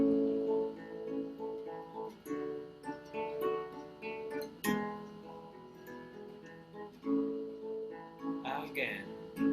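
Guitar strumming a full chord exercise with a repeated section in steady rhythmic strums, close and moderately loud, with a voice faintly audible at times.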